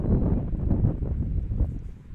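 Steady low rumbling wind buffets the microphone at a Delaware high school softball game, a continuous roar with gusty swells and no clear voices.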